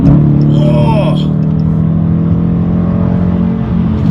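A 2019 Dodge Challenger R/T engine runs loud and close with a steady, deep drone and a brief rise in pitch early on, heard from inside the car.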